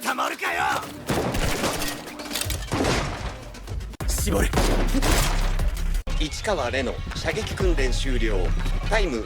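Rapid bursts of gunfire ring out during squad shooting practice in the Kaiju No. 8 anime, loud and repeated over dramatic background music and voices.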